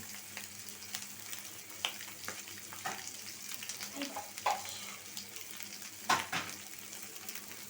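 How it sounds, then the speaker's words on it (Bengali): Eggs frying in a pan at home, a soft sizzle with a few scattered clinks and stirring scrapes, quiet and close. "আন্ডা ভাজি"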